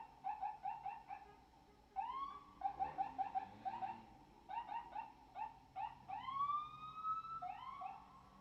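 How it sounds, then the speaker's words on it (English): Police sirens pass right outside a window, a fast yelping wail followed by rising and falling tones, loud and close and cycling repeatedly, with no voices over them. "Sorry about the sirens, guys."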